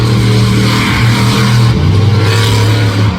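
A monster truck engine roars loud and close at New Egypt Speedway during a freestyle run, a continuous heavy drone that dips briefly midway as the throttle shifts, then keeps growling with no voices.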